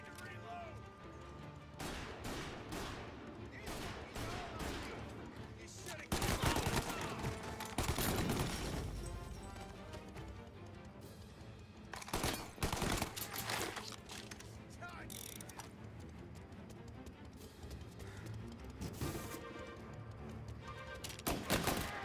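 Gunfire in the video game Mafia: Definitive Edition, rapid bursts of shots and mechanical weapon clatter crackling across a dense, loud mix with several heavier volleys, no speech in the clip.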